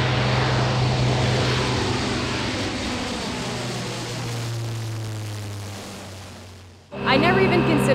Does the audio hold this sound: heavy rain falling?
no